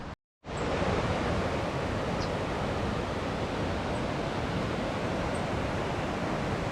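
Waterfall in Boquete, Panama, a loud, steady broadband roar of falling water that starts abruptly after a short silence and continues unbroken, with no talking.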